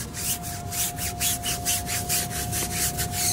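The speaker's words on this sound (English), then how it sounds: "Get a scrub brush with stiffer bristles." A stiff-bristled scrub brush rasps back and forth over a car tire in quick, even strokes, close and fairly quiet, with no talking.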